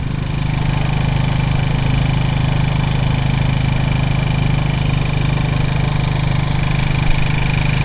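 A Hyundai Veloster N with an SXTH Element intake idles steadily and loudly nearby, a constant engine drone with a strong low hum that holds unchanged throughout.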